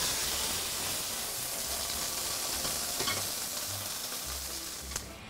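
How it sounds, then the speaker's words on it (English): Beef tenderloin steak searing in an oiled pan gives a loud, steady, close sizzle with no voices, easing slightly near the end with a small crackle. "So we're gonna put our steak on,"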